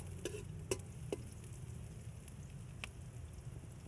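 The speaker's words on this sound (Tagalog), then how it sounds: "gisa lang natin sibuyas bawang" Onion and garlic sauté in a pan for ginataang soso, a low steady sizzle with a few sharp clicks of a utensil stirring against the pan, no talk.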